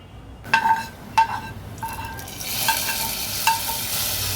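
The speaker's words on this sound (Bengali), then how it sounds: "এখন কিন্তু আমি ঢেলে দিব আওয়াজটা শুনে নিশ্চয়ই বুঝতে পারবেন" Cooked dal for a village-style dal with Malabar spinach (pui shak) is poured into a hot pan, giving a loud sizzle with sharp bursts of spattering and frying that settle into a steady hiss.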